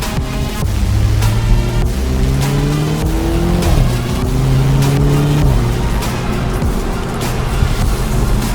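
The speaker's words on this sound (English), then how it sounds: "Not sure if you can hear the popping when I downshift." A 2021 BMW Z4 sDrive30i engine revs up and drops through gear changes on a scenic drive, loud and close, with sharp exhaust pops and crackles breaking in during the downshifts.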